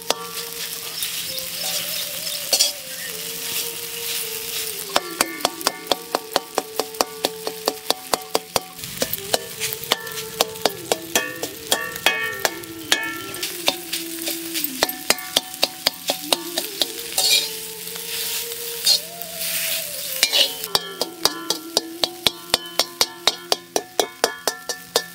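Rice flour being stirred in a hot pan for ukkali puttu: rapid, rhythmic scraping and tapping of a spoon against the pan in long runs, over a faint steady sizzle and a continuous background tone.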